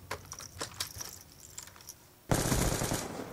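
Gunfire in the video game Black Ops 2 comes as a run of sharp shots, then breaks into a loud, dense burst of continuous automatic fire near the end.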